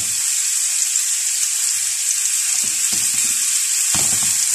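Chicken breast pieces for brochettes frying in a little oil, a loud, constant bright sizzle close by with a few soft knocks of stirring near the end, no talking.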